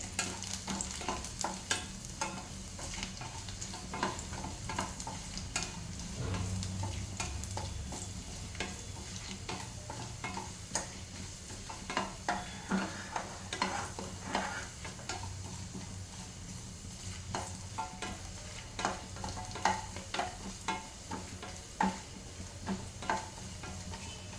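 Garlic and chili poha fries in a pan with a continuous crackling sizzle and repeated scraping stirs of a spatula, steady and close throughout.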